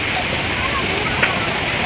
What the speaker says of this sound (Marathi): हा असा धबधबासारखं पाणी पडतंय, तुम्ही बघू शकता